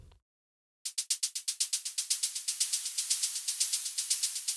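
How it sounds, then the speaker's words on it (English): Electronic white-noise shaker in an Afro house groove: a fast, steady train of bright hissy ticks, about a dozen per second, with accented pulses and a lengthening tail. "You get this electronic white noise cutting shaker, which sounds really cool"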